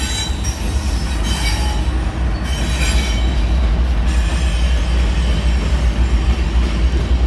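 GE Evolution (Gevo) locomotive train passing through the Roseville rail yard, a loud, continuous close rumble with squealing wheels and steady rolling noise throughout, no talking.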